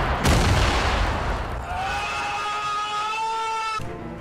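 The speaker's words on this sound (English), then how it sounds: "Just throws the grenade." Grenade exploding in a battle royale game: a sharp, loud blast with a long booming rumble that fades into a sustained whistling tone before cutting off.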